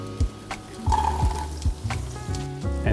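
Celery, fennel and onion sauté in olive oil in a pan, a soft, close sizzle with small crackling bursts under a rhythmic musical background.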